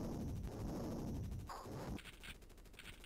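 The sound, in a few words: gunfire from the video game Jungle Strike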